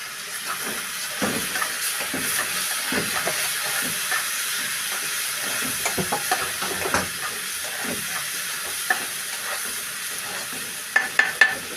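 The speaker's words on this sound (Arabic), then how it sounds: "هنحط الرز، فلفل اسود، الملح، نشوحه شويه كده" Rice, vermicelli, black pepper and salt being stirred in a hot pot, a soft steady sizzle with light scraping and stirring scratches, a few sharper clicks near the end, close with no talking.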